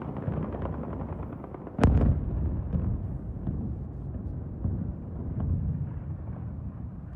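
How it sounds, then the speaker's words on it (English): War footage of explosions inside a port: a sharp, loud blast stands out early, then weaker thuds and rumbles follow under steady wind noise and distant rumble, with no speech. "This one will actually show the explosions within the port itself."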